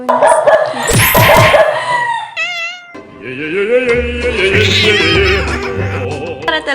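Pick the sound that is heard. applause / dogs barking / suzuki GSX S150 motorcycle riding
dogs barking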